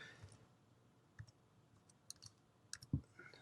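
Computer mouse clicks while installing a Chrome browser extension, a few sharp isolated clicks scattered through quiet room tone, one louder thump near the end.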